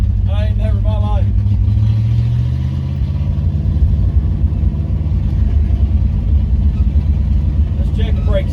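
A 1972 C30 truck engine that keeps flooding out runs with a loud, deep, uneven rumble that continues throughout, with a voice heard briefly at the start and again at the end.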